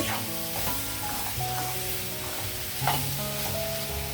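Beans and potato curry frying in a pan as chili powder is stirred in, a steady close sizzle with repeated scraping stirs of a spoon against the pan, no talking.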